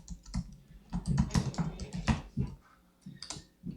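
Computer keyboard typing as a trigger name is entered in Google Tag Manager, a close, brisk run of clustered keystrokes with a short pause before a final few taps, no speech.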